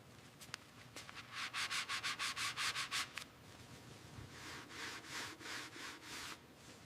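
Restored clear-coated fenders of a 1918 Dodge Brothers Touring get a final buffing pass, a rhythmic series of close rubbing strokes, quick and regular at first, then softer and slower.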